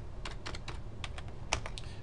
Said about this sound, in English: Now we're going to type our names.